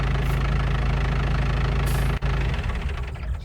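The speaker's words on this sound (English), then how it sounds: "I'm just going to turn this tractor off for a sec." A tractor engine in Farming Simulator 19 runs with a steady low rumble, then cuts off abruptly partway through, leaving a fading, quieter hum.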